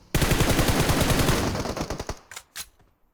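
A sustained burst of automatic gunfire in PUBG Mobile, loud and rapid for over a second, then breaking into separate shots that thin out and fade, with a couple of later single cracks.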